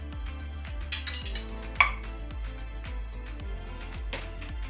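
A metal kadhai being shifted across a kitchen stovetop while cooking mixed vegetables with mushroom, giving a single sharp clank amid soft scraping and clinking, with low background hum throughout.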